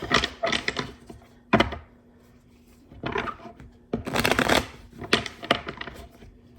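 A deck of tarot cards is riffled and shuffled in several quick, crisp bursts separated by short pauses, close to the listener.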